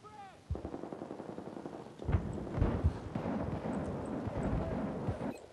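Battlefield 4 firefight with a fast-firing A91 rifle, dense rapid automatic shots rattling close and loud, punctuated by heavier impacts, alongside distant battle noise.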